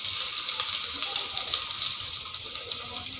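Chopped large onion hits hot oil with clove, cardamom, cinnamon and a bay leaf, giving a continuous bright, hissing sizzle at close range with no talking.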